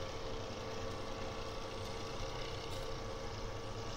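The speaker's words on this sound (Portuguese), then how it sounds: "O trator daí corre bastante," A tractor engine drives at speed in Farming Simulator 17, a steady, even mid-low engine drone with no gear changes or breaks.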